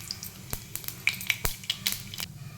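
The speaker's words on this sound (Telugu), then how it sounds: "ఇప్పుడైతే ఆయిల్ వేడైంది, కొంచెం జీలకర్ర వేసుకుంటాం. అలాగే కొన్ని ఆవాలు," Cumin and mustard seeds sizzle in hot oil in a pan while breakfast is cooked, giving a steady fry hiss broken by small crackles and pops.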